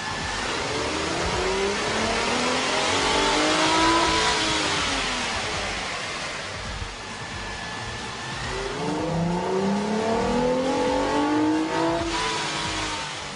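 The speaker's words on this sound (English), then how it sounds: "we ran the vehicle on the dyno to test the sound comparison versus the stock intake" A Ford Flex engine with a K&N high-flow air intake revs on a dyno in two long rising and falling sweeps, loud and close with intake whoosh, and no talk.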